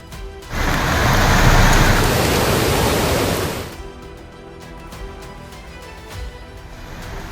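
A loud, broad rush of floodwater at the Savadatti Yellamma temple in Karnataka for a few seconds, then dropping to a softer steady background roar.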